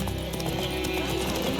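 Horse hooves clip-clop in a steady rhythmic trot in The Witcher 3, continuous under dense game music and ambient noise, with a voice speaking over the hoofbeats.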